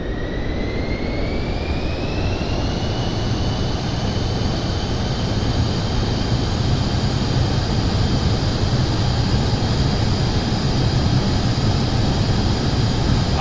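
Pilatus aircraft engine in Microsoft Flight Simulator 2024 during takeoff, a steady loud turbine roar with a high whine that rises in pitch early and then holds level throughout.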